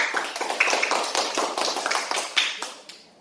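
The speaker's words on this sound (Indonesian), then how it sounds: "Kita beri tepuk tangan dulu kelompok 3." A small group in a classroom claps for a group presentation. The clapping is close, uneven and loose, continues for about three seconds and then stops, with no talking.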